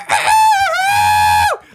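A single loud, close rooster crow, one long sustained cock-a-doodle-doo with a falling end, heard clearly and alone.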